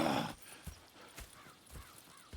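Horses in Red Dead Redemption 2 heard as a few soft, scattered hoof clops and faint animal noises after a brief louder burst at the start, set against quiet outdoor game ambience.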